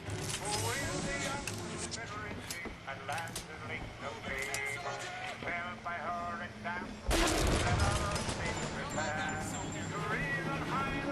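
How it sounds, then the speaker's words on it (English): Shotgun fire in the video game Bioshock Infinite, with one loud blast standing out over a dense, continuous bed of game noise and music, while someone talks. "That's a long-range shotgun. I like it."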